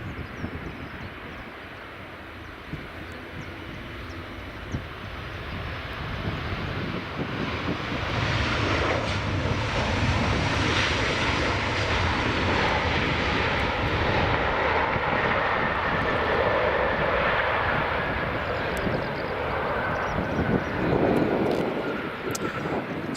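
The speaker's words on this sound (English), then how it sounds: "So Ryanair's 737-800, just about to touch down." A Ryanair Boeing 737-800 touching down at Edinburgh Airport, its jet engine roar swelling from a distant rumble to a loud, broad, sustained wash of noise as it passes near.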